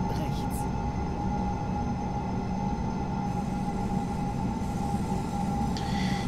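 A Hamburg S-Bahn BR 474 electric train on the S1 line in Train Simulator 2018 runs steadily, with a constant droning motor hum, rolling rumble and a sustained tonal whine filling the whole stretch without break.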